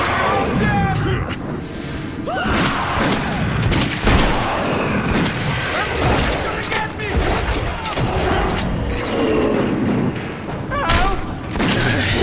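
Dense, chaotic gunfire and explosions in the Metro video game, with continuous bursts and booms layered under urgent shouted voices throughout.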